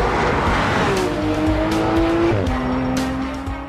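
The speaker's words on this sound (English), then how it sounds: "A right-hand bend, I take it pretty fast, and then move right into a left-hand curve." A 2016 Porsche 911 GT3 RS sweeps fast through linked right and left bends on a racetrack, its engine roaring close and loud with a rising whine, tyres squealing through the corner before the sound eases slightly.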